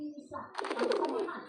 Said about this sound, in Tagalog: May ibon, no?